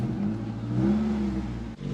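A Mk3 Ford Escort engine idles and revs gently close by, a rough droning rumble with a raspy, leaky exhaust note from a bad exhaust blow.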